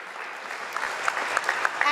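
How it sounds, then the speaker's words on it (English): An audience applauds at a synagogue celebration marking the 100th anniversary of the bat mitzvah, a steady wash of clapping with a few louder individual claps and whoops toward the end. "let us get a big round of applause"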